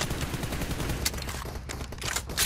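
A sustained spray of automatic gunfire through a 4x scope in PUBG Mobile, rapid repeated shots running without a break from start to end, loud and close.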